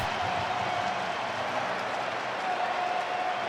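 Steady, broad crowd applause fills a World Series ballpark during Game 7 between the LA Dodgers and Toronto Blue Jays, a constant wash of clapping and cheering from a large audience with no pauses.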